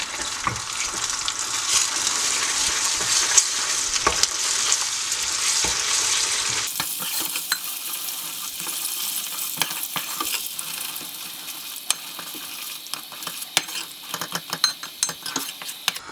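Butter melting into caramelized sugar for an upside-down apple tart, a loud hissing sizzle that drops off abruptly, followed by quieter clicking and scraping as the mixture is stirred.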